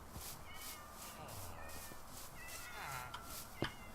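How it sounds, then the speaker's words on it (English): Several cats meow inside a barn in Minecraft, a video game, a few short rising cries scattered over a steady background hiss, with a sharp click near the end. "There's a ton of cats inside the barn here for some reason."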